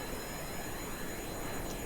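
Jet aircraft engines in the Kerbal Space Program video game, heard as a steady, even, fairly quiet roaring drone that continues unbroken with no voices over it.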